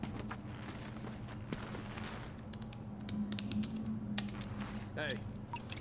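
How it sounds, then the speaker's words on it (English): Rapid keyboard typing in The Division video game, quiet clicking taps running under game ambience and brief voices. "Use keyboard."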